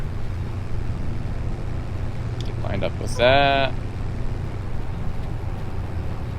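A tractor engine in Farming Simulator 25 drones low and steady throughout, with a person speaking briefly over the constant hum.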